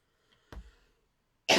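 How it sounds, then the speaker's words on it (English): A single short cough sounds close by after a brief faint noise, followed by a sudden loud breathy burst at the end. "I still can't get rid of this cough."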